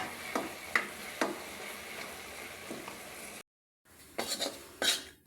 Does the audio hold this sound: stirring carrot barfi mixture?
yes